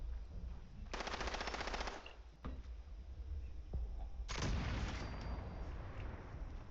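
Gunfire in Fallout 76: two loud rapid bursts of automatic fire, one early and one later, separated by quieter background game ambience.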